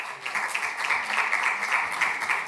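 Steady applause from an audience at an assembly of local and regional leaders in Valongo, a dense, continuous patter of many hands clapping, even in level throughout.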